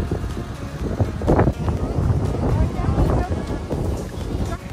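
Gusty wind on the seaside promenade at Bangor, County Down, buffets the microphone in a steady low roar, with brief louder gusts and faint voices underneath.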